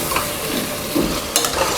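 Mutton pieces frying with masala in a pan as a spoon stirs them, a steady soft sizzle broken by a few scraping strokes, close, with no voices.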